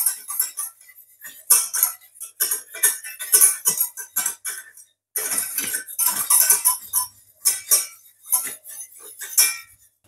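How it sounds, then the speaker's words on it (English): A whisk works a sugar mixture in a pot over the fire, producing bursts of rapid metallic clinking and scraping in an uneven rhythm, with a short pause midway. It is close and fairly loud, with no speech. "you just keep whisking it"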